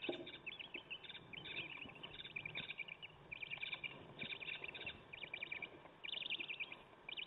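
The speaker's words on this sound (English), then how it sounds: "Notice we have a bird in here also." Small bird chirping inside a nest box, rapid high twittering calls repeating in short bursts throughout, close but soft against a faint background hiss.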